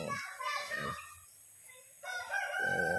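A rooster crows twice, fairly close, with the two calls separated by a brief quiet gap.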